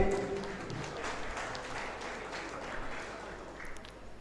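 A crowd at a youth wing political rally in Sawantwadi claps together, a faint, distant wash of applause that holds steady through the moment with a muffled voice mixed in.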